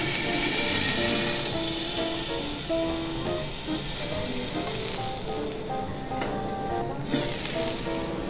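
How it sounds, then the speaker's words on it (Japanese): Vegetables steam-frying on a teppanyaki griddle under a cloche with added water give a loud, constant sizzle and steamy hiss, close up with no speech over it. "残りのお野菜は少しクロッシュをして水を与えて蒸し焼きにします。"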